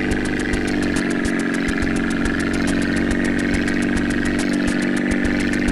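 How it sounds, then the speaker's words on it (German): A sputtering propeller plane engine in GTA San Andreas drones steadily and loudly throughout, with a rapid regular ticking pulse over a low rumbling hum and no voices. "Der Motor stottert schon."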